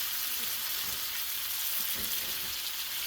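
Pheasant back mushrooms fry in a pan of olive oil and butter, giving a steady, close, hissing sizzle throughout with a few faint low bumps of stirring.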